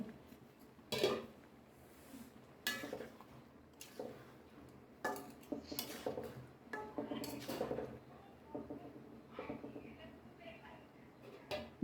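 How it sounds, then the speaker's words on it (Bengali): Pot lid lifted and mango murabba stirred on a low-heat stove, giving a few sharp metallic clinks and scrapes of lid and spoon against the pot, spaced out over the clip, with a voice talking between them. "ঢাকনাটা উঠায় নিচ্ছে একটু নেড়ে দিব"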